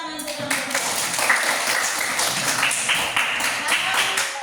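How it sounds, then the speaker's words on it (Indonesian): A classroom of students applauds group 2 during a school project lesson, with steady, dense clapping under a murmur of voices for several seconds. "beri tepuk tangan untuk kelompok 2"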